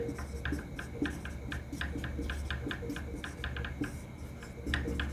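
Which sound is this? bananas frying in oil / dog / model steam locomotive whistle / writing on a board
writing on a board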